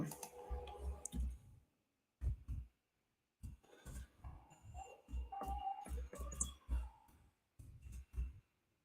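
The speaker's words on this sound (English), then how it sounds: "Sorry if I'm typing really loud." Bursts of rapid clicking keystrokes close by, coming in short flurries separated by brief silent pauses.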